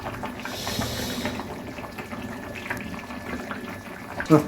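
Beef curry bubbling in a pot on the stove, a soft continuous watery boil with gurgles and a small clatter at the end.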